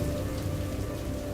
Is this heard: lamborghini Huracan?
no